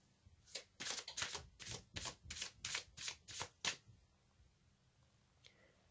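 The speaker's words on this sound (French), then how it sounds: "Je vais tirer une carte supplémentaire pour voir ce que ce bienfait va vous apporter." Tarot deck shuffled in about ten rapid, rhythmic riffles, close and soft, followed by near silence with one faint tap at the end; no talking.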